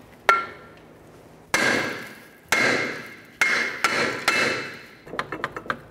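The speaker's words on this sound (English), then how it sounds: "We're going to carefully hit along these areas here to try to break this free." Hammer blows strike the rear brake rotor of a 1999-2003 Toyota Solara to free it: one sharp hit, then a run of loud metallic strikes with ringing decay, closing with a quick cluster of lighter taps.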